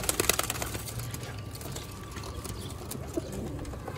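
Pigeons in a loft of about a dozen birds coo faintly and steadily through soft rustling and scratchy background noise.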